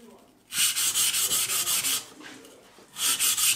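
A kitchen knife is sharpened on whetstones with long, even, gritty strokes, a rapid run of close back-and-forth scrapes, a brief pause, then another burst of rasping strokes.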